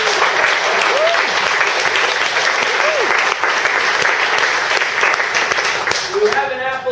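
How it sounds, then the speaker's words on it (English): Steady, loud audience applause after a conference talk about a scale-out transactional database, sustained clapping filling the room for several seconds before thinning out at the end. "I just want to first give a great big round of applause to Sergei Tsarev"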